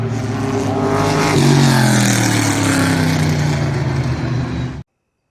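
A Safari Rally-inspired Nissan 370Z rallycross car in Forza Horizon 5 drones loud and close, its engine note holding steady and rising slightly as it accelerates before cutting off abruptly.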